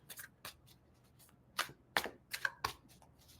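Tarot cards shuffled by hand in a series of crisp riffling bursts and soft flicks, close and fairly quiet, with no talking.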